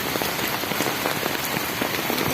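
Heavy rain pounding steadily on surfaces, a dense continuous hiss of drops close by with no talk.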